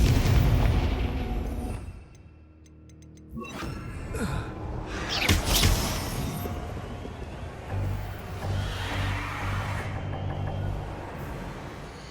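A Confringo explosion spell goes off in the video game Hogwarts Legacy with a heavy boom and crackling blast, amid a continuous, dense rumble of game effects and background sound.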